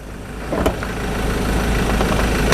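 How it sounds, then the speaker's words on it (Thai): A lifted 2017 Ford Ranger pickup idles with its hood open, a smooth, steady low engine hum heard up close with a slight rise partway through. "ดูเครื่องยนต์นะครับตอนนี้คิวสตาร์ทอยู่นะ อยากให้ได้ยินเสียงเครื่องยนต์เห็นไหม เครื่องนิ่งเดินเงียบ"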